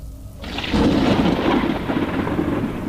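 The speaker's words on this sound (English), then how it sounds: "There was a thunderstorm that night, which is extremely rare for Oregon, but it does happen." A thunderstorm in Oregon brings a deep, rolling rumble of thunder that swells and lingers over steady, dense rainfall, heard close and loud throughout.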